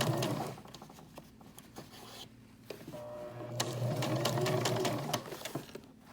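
Sewing machine running a gathering stitch over a gathering thread in short bursts, its rapid mechanical whir and needle chatter starting and stopping, close and moderately quiet, with fabric rustling between runs.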